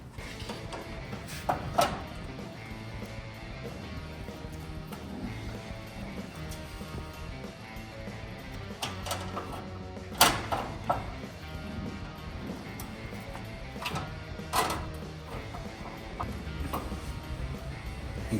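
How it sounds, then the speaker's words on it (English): Engine of a 1929 Ford Model A being hand-cranked, with a steady mechanical clatter of turning parts and occasional sharp clunks and knocks close by, and no talk. "You can try cranking it again."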